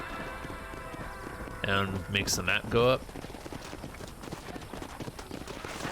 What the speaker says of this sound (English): Up on the D-pad is indeed how you whistle for the horse.